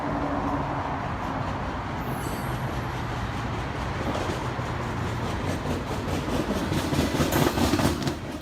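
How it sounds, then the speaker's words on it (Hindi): An automatically running train passing by, a loud continuous rumble and rattling of wheels on rails with rhythmic clicking that swells slightly near the end. "अब जैसे कि ऑटोमेटिकली चलने वाली ट्रेनें भी शायद आ चुकी हैं।"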